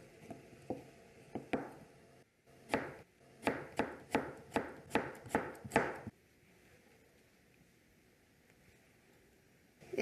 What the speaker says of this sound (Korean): 그 다음 오이를 썰겠습니다.